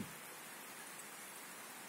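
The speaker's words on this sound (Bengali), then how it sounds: "বৃষ্টি হইতেছে বাহিরে" Steady rain falls outside, heard from a fifth-floor home, a continuous even hiss of drops with no voices, holding at a constant moderate level throughout.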